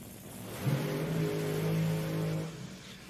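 A race car engine revs at a qualifying event, a fairly faint, sustained droning tone that swells for about two seconds and then fades away.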